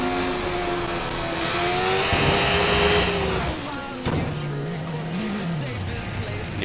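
A motorbike engine in the Watch Dogs video game whines and revs steadily, with rising and falling pitch sweeps and tire squeal under a continuous engine drone, loud and close throughout.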